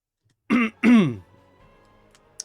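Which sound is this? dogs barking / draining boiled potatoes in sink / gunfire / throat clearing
throat clearing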